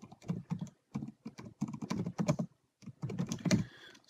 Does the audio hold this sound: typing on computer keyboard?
yes